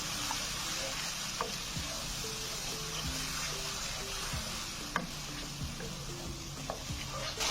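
Tadka spices sizzle in hot oil in a pan for lobia curry, a steady close frying hiss with scattered pops and the occasional clink of a stirring spoon, and no voices.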